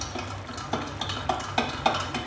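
A spoon scrapes and stirs through spiced gravy in a pan, chilli and garam masala just added, giving a steady series of soft, close scraping strokes with faint sizzling underneath and nobody speaking.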